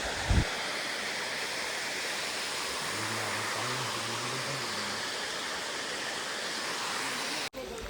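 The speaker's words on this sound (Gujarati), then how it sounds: "અહીંયા તમને બતાવીએ ધોધ બતાવીએ" Najar Mata waterfall pours as a constant, dense roar of rushing water, loud and even throughout, with a brief low hum in the middle and a sharp knock at the start.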